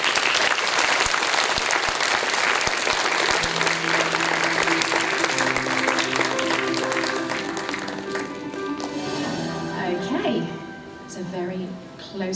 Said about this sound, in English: If we could give her a round of applause, please.